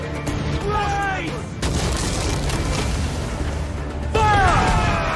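Naval cannons firing in Assassin's Creed 4 Black Flag, heavy booms under a continuous battle din, with a fresh loud blast near the end and harmonic whistling streaks mixed in.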